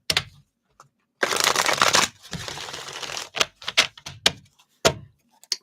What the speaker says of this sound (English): Let's give this a shuffle real quick.